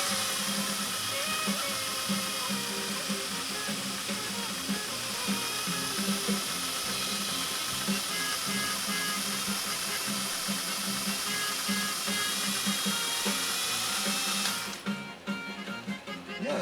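A 1957 Singer 401A sewing machine runs fast and steady, a continuous high whirring motor hum with a fine rapid needle chatter, close and even, cutting off near the end.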